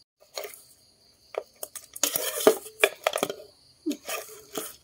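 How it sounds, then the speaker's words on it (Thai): Red chili peppers chopped with a knife on a cutting board for a crab dish, a run of close, sharp irregular knocks and taps in short bursts separated by pauses. "ไปเอาพริกแดงมาหั่นใส่หน่อยนึงนะให้มันสวยๆ"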